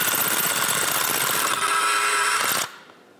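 Skinzit electric fillet tool cutting through perch rib bones, a steady loud motorized whir with a high buzzing edge that runs continuously, then cuts off abruptly as the motor stops.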